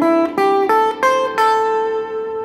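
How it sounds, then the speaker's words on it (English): Electric guitar picking a pentatonic scale, five clear single notes stepping upward one after another, each ringing into the next, with the last note left to sustain and fade; no talking. "they're taught what's called a pentatonic scale"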